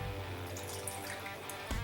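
Cold water from a refrigerator is poured into a cup for homemade gummies, a short close liquid pour with a splashy gurgle that ends in a small clunk, and no talk.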